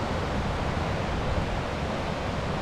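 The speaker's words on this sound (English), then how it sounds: "It's a windy day." Steady wind noise buffets the microphone by the Little Patuxent River on a warm winter day, loud and unbroken throughout, with no talk.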